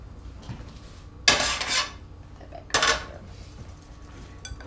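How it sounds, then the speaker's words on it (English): Cooked beans tipped into a small casserole dish, two bright clattering bursts of metal utensil against dish with a scrape, separated by quiet, close and fairly loud. "Now I'm just going to put these in this little casserole dish here"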